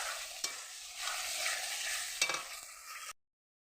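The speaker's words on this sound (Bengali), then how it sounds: "মশলা কষানোর ভিতরে টমেটোটাও দিয়ে দেবো, ভালো করে নেড়ে চেড়ে নেব।" Tomato being stirred into a sizzling spice masala in a pan while cooking chicken kosha, a steady bright frying hiss with a few sharp spoon scrapes and knocks, close and continuous, no talking.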